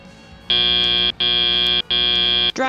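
A loud electronic buzzer starts a FIRST Tech Challenge robotics match, blaring three times in a row, each blast long and harsh with brief gaps between.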